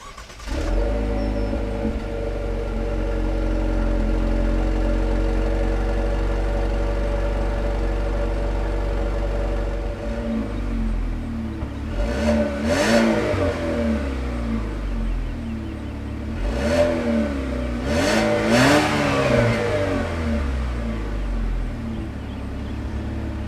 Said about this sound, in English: That engine is a 2-liter turbocharged 4-cylinder which produces a stout 252 horsepower and 260 pound-feet of torque.